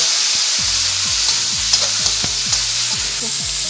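King oyster mushrooms and chili stir-fried in a wok give a loud, continuous sizzle, broken by a regular series of spatula scrapes and knocks against the metal.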